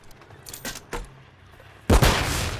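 Call of Duty MW3 multiplayer gunfire: a few sharp shots early on, then a loud sustained burst of fire near the end.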